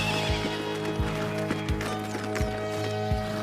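Australian Brumby horses moving at speed, with steady, evenly spaced hoofbeats thudding close by and a whinny rising over the running rhythm.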